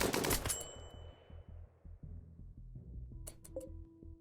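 Gunfire in the video game RimWorld, an opening burst of rapid shots followed by a faint rattle of further fire and a few sharp game clicks and tones, with no talk.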